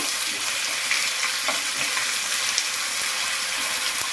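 Ginger garlic paste frying in a pan while making a bitter cucumber pickle, a steady close hiss and sizzle with faint scraping from stirring.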